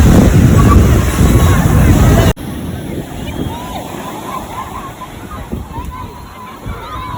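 Sea waves sloshing and washing onto the shore at Sagareshwar beach in Vengurla during rain, a loud continuous surge at first, then a softer steady wash with wind buffeting the microphone.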